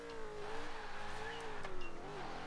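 Supercharged 6-litre pushrod V8 car engine in Forza Horizon 4, holding a steady loud drone with a slight rise in revs, alone without talk.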